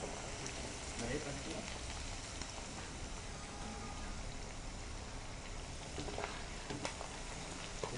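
Chicken pieces deep fry in hot oil for a chicken pickle, a dense, continuous crackling sizzle at moderate level with occasional sharper pops.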